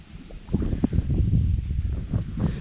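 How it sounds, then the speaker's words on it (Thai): Strong wind gusting across an exposed mountain clifftop in Nan province, Thailand, roaring and buffeting the microphone in a steady low rumble with sharper gusts throughout. "ลมแรงนะเนี่ยที่เนี่ย"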